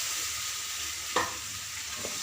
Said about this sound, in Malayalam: ഇഞ്ചി വറുത്തതിൻ്റെ കൂടെ പുളിവെള്ളം ഒഴിച്ചു